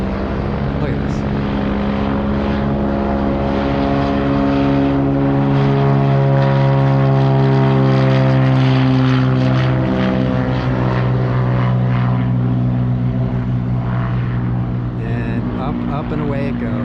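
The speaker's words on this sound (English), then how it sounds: "I love the engine noise of this plane. It's got kind of a muscle car rumble" A propeller airplane taking off at Santa Monica Airport, its loud, steady engine drone with a deep rumble and harmonic whine, sustained and close throughout.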